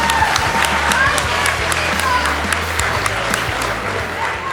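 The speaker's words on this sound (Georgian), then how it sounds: "მოდი მოვუსმინოთ აპლოდისმენტები მიგავეკუას და კოზანოვსკას მეგობრებო" Loud applause from an arena crowd at a grappling event, with dense clapping, scattered cheers and a buzz of crowd voices close by.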